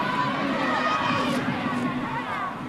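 A crowd cheers loudly from a nearby team bench at a college field hockey game at the Maryland Field Hockey and Lacrosse Complex, a dense, sustained mass of shouting voices.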